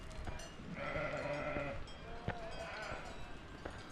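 Sheep bleat along a Swiss Alps trail, several drawn-out calls rising over a steady outdoor hiss and faint bells, moderately distant, with soft voices nearby.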